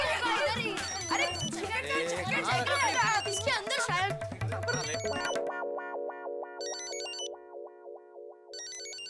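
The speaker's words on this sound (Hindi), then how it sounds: "लगता है किसी का मोबाइल बज रहा है।" Mobile phone ringtone in a sitcom setting: a melodic electronic ring that starts under busy, overlapping talk and music, then continues clearly on its own with repeating tones.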